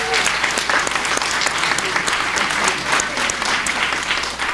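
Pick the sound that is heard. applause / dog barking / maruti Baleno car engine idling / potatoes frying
applause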